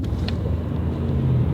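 A yellow Subaru WRX drives past at a car show in Wisconsin, giving a brief, fairly loud engine rumble over steady outdoor background noise.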